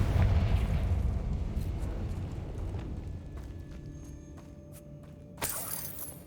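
Confringo spell blast in Hogwarts Legacy, a loud, heavy explosion with shattering debris that rumbles and slowly decays, followed by scattered clicks and a sharp bright crack near the end.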